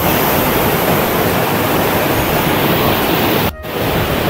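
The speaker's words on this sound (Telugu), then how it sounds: "మనం కిందకి వెళ్ళి చూద్దాం వాటర్ ఫాల్ ఏ రకంగా ఉందని" Banjakri waterfall near Gangtok in Sikkim, about 100 feet high, roars as a loud, dense, continuous rush of falling water, steady throughout apart from a momentary dip near the end.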